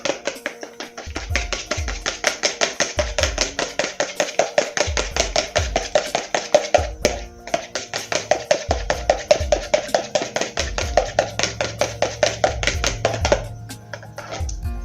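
Brownie batter with egg, for walnut brownies, mixed briskly in a bowl: a fast, steady run of close clacking taps against the bowl, with rhythmic low thumps and one short pause midway, no talk.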